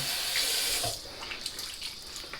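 Cold water runs steadily from a tap into a sink during a wet shave with a razor, a continuous close hiss and splash that eases slightly after the first second.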